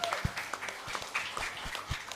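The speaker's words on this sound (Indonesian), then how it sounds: "Tepuk tangan untuk kita." A church congregation at a Christmas service applauding, scattered uneven claps with soft crowd murmur, moderately distant and not very loud.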